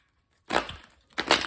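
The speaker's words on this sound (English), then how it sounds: "Make sure I get a good shuffle." Two quick bursts of papery riffling from tarot cards being shuffled, a short pause between them, close and fairly loud, like a deck of cards being shuffled.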